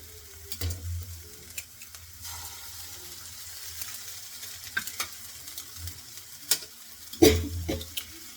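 Egg frying in a pan with cooked sprouted moong beans, a soft sizzle with stirring scrapes and a few sharper clinks, close and fairly quiet, no talking.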